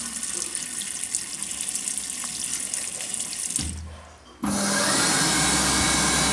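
A washroom sink tap runs steadily with a bright rushing hiss, dips briefly, then returns louder and closer, with no talking over it.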